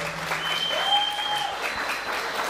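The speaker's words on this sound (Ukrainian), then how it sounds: "це що, оплески, ви привітаєте цю пару" Wedding guests applauding a couple at a reception, steady moderately loud clapping from a room of people, with music tones faintly underneath.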